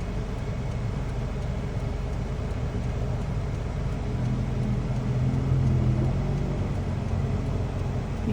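A car driving close by in city traffic, heard as a steady low road rumble and engine hum from inside a moving vehicle, swelling slightly as it passes near.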